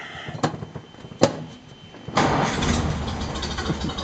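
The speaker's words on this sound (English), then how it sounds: "it should start right up since I had it running a few minutes ago" A Model A Ford engine is cranked with a few sharp clicks, then catches around the two-second mark and settles into a steady, rough running rumble, close and fairly loud.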